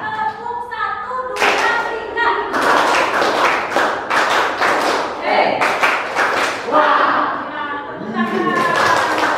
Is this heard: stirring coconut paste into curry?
no